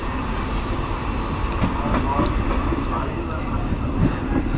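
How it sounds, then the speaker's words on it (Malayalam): A passenger train on Indian Railways pulls away from Mannanur station, giving a loud, continuous, close-up rumble of wheels on rails with faint squeals and clatter throughout. "മന്നന്നൂർ എന്ന് പറഞ്ഞ സ്റ്റേഷനിൽ നിന്ന് വണ്ടി എടുത്തു കേട്ടോ"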